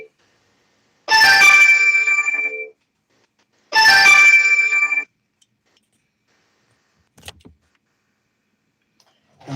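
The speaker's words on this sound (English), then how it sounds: "somebody was calling my phone" A phone's ringtone sounds twice in quick bursts, each about a second and a half long, clear and loud in an otherwise quiet room, followed by a couple of faint clicks.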